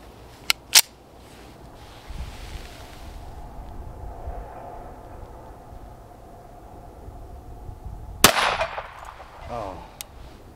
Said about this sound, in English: I'm shooting Winchester 230 grain full metal jackets out of my Kimber